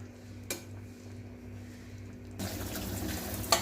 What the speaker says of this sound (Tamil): பாருங்கள், நல்லா ஒரு கொதி வந்துடுச்சு.